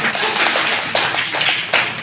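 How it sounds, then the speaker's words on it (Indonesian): Brief burst of clapping from an audience at a job training centre, a few people applauding in short uneven rounds for about two seconds, close and fairly loud. "Tepuk tangan dulu dong."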